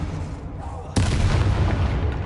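Confringo spell blast in the Hogwarts Legacy video game, a sudden loud burst that holds as a sustained roaring explosion through the rest of the moment.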